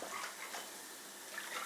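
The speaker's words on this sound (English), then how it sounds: "I'm going to put in a little bit of water to get the remainder out of the bottle." Water swished around inside a passata bottle to rinse out the remains, a faint, soft sloshing and gurgling with a few small splashes, quiet and close.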